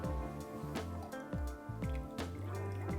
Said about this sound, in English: we add the lime juice